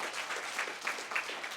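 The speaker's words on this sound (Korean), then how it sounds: "격려의 박수 한번 좀 드려주시죠" Congregation applause during a Thanksgiving Sunday church service honouring the choir, a short, dense round of many people clapping at moderate volume, with no speech over it.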